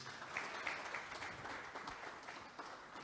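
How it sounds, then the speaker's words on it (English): Conference audience applauding after an address by a president and chairman at a directors' forum in Nigeria, a steady, moderately faint wash of clapping lasting about three seconds without voices on top. "Another round of applause,"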